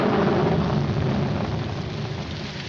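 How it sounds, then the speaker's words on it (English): Steady broadband rain hiss with a low rumble, continuous and fairly loud throughout, fitting a downpour heard outdoors in a 1947 film scene, with no talking. "Put this top up. It's going to rain."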